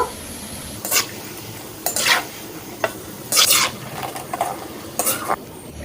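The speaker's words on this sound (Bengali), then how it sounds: "তেলটা হালকা গরম হওয়ার পর কেটে রাখা ওই কাঠিটি আমি দিয়ে দিচ্ছি।" Gur kathi dough sticks fry in hot oil, a steady low sizzle broken by several short, sharp scraping bursts as they are stirred in the pan.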